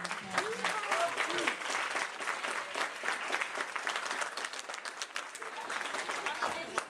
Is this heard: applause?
yes